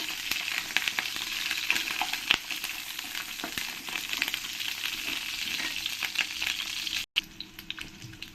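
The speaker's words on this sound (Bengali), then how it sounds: "ভালো করে লাল লাল করে আমি পটলগুলোকে ভেজে নেব" Pieces of pointed gourd (parwal) fry in oil in a pan, giving a steady, close sizzle with crackles and pops, a brief stir noise, and no speech.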